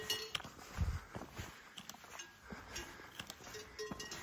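Cowbells on cows in a mountain pasture along the Polish-Slovak border clink faintly and irregularly over outdoor ambience, with a few soft footsteps and a brief low thump.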